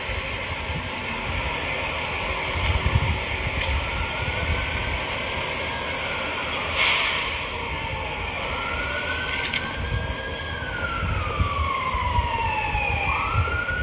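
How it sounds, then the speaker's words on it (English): Emergency vehicle sirens wail across downtown Los Angeles from across the street, a faint rising and falling tone rising above a steady roar of city traffic and street noise for the whole stretch. "Hear the sirens in the background."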